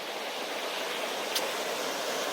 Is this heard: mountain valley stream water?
yes